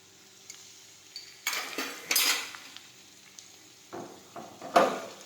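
A spoon scrapes and clinks against a pan while batata poha is stirred, giving several separate metallic scrapes and taps at close range with quiet gaps between them.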